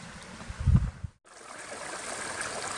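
Small creek near the Wind River on a mountain trail by Sprague Lake, a soft steady trickle and burble of flowing water at moderate distance, with a brief thump early on.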